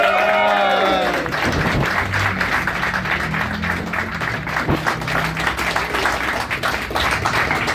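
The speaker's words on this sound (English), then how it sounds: "big round of applause for Charlie" A crowd at a first-birthday celebration breaks into a big round of applause for a woman, and dense clapping with some cheering carries on steadily after a brief opening tone.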